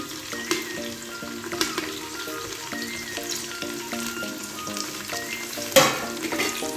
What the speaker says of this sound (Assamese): ধুনীয়াকৈ মিলাই ল'ম অলপ সময় ফ্ৰাই হ'বলৈ দিম